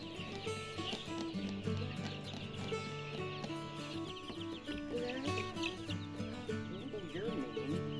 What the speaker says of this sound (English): Probably a rooster, huh?